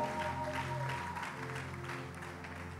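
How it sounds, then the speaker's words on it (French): A church congregation at a French-language service applauds and cheers, a dense steady wash of clapping with organ or keyboard tones sustained underneath, loud and continuous throughout. "Est-ce qu'on peut acclamer très fort le Seigneur?"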